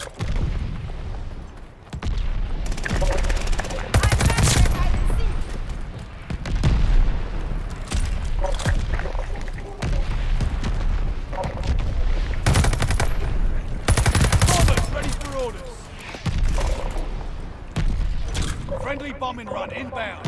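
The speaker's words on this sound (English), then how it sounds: "Allied mortar fire coming." Mortar fire and gunfire in a Call of Duty battle at Demyansk, with loud, near blasts and rapid bursts of shooting following one another across a dense, clattering mechanical din, under shouted voices.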